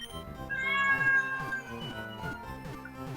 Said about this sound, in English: My real life cat. I don't know if you heard that